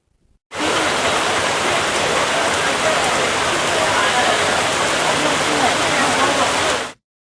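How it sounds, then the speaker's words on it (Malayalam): Heavy rain pours down in Idukki district, Kerala, in a steady, dense hiss that starts abruptly, holds constant for several seconds, then cuts off. "ജില്ലയിലെ വിവിധയിടങ്ങളിൽ പരക്കെ മഴ പെയ്തു"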